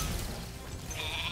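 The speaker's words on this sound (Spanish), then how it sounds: "¡Ah! Era una oveja, what the fuck." A sheep in Spyro the Dragon gives one short, wavering bleat near the end over steady game background noise.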